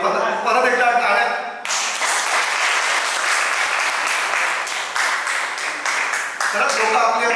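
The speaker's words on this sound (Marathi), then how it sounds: "परत एकदा टाळ्या." Audience applause at a Marathi Agri-language reading event, a steady wash of clapping that swells in after a brief spoken line and carries on loud with voices at the edges.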